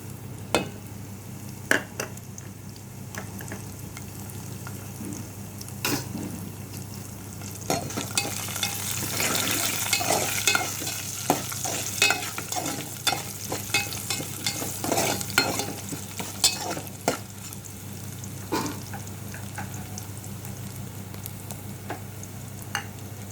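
A tempering with a pinch of turmeric and crushed garlic cloves fries steadily in a pan, a continuous close sizzle with repeated clinks and scrapes of stirring throughout, busier in the middle, without speech.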